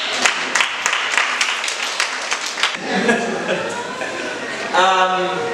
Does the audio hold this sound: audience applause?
yes